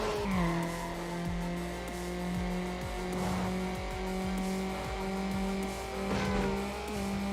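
A Lamborghini Murcielago in the Need for Speed Underground racing game skids with repeated tire squeals over a loud, steady engine drone. The revs rise and fall as the car slides. No one speaks.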